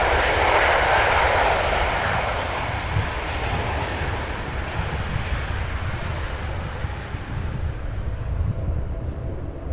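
An airliner touches down at CVG in Cincinnati, Ohio, a loud, rushing engine roar strongest at first and easing gradually over the following seconds, with no voices.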